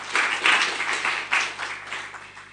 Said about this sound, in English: I think we deserve a clap also.